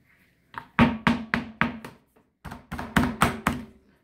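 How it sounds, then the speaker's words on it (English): A filled soap mold for small guest soaps is banged down on a work surface: about half a dozen sharp, close thumps in quick succession, a short pause, then another similar run, loud and with no talking. "We'll just give it a little bang, just to make sure we get down."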